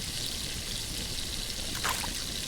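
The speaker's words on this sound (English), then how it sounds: "I'm dumping my water skin." Water pours steadily from a water skin in the survival game The Last Plague: Blight, a continuous close trickle lasting a couple of seconds with a brief splash near the end.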